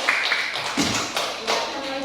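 Brief bursts of classroom applause as students clap their hands, several short clusters of claps close by, fairly loud with no talk over them.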